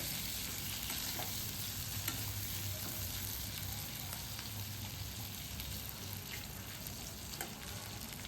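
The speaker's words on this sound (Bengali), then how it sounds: "সেই তেলেই কিন্তু ভালো করে নেড়ে চেড়ে ভেজে নিতে হবে বেগুনগুলোকে" Eggplant pieces fry in oil with a steady, even sizzle that carries on unbroken throughout, with faint stirring beneath and no voices.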